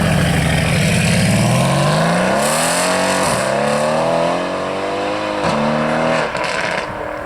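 A loud supercar engine revs and climbs steadily in pitch as it departs a supercar gathering, with a couple of brief gear-shift dips, close and continuous throughout.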